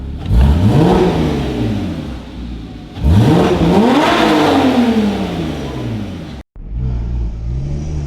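A Porsche fitted with an Armytrix exhaust pulls away down a street in two loud, rising accelerations, each engine note climbing through gear changes before a short break and a lower settled drone.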